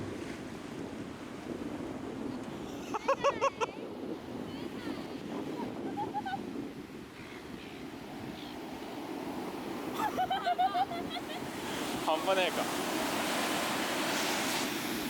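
Waves and wind at Bondi Beach in Sydney, a steady soft rush of surf and wind noise across the whole stretch, with brief louder bursts in places.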